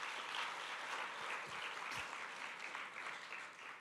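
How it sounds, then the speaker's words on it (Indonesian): A congregation at a Christmas Sunday church service applauds in a steady, even wash of clapping heard from a distance and fairly faint, with a couple of low thuds partway through. "Beri tepuk tangan buat Allah kita."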